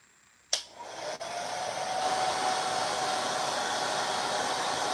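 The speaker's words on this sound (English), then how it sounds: "until you see the hair dryer go away so that the noise won't bother you" A hair dryer clicks on and settles into a steady, close whooshing hiss that gradually builds and then holds level until the end, with no voices.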